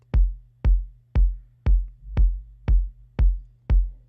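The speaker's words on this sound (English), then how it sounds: "And the kick on its own sounds like this." Kick drum from a dance remix played solo, eight punchy, booming hits in a steady even four-on-the-floor pulse with a deep low tail, clean and close with nothing else audible.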